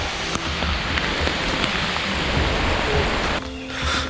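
Heavy rain pours down across deep Ugandan jungle, a dense, steady roar of drops on leaves that fills the whole scene, easing slightly near the end while the downpour continues.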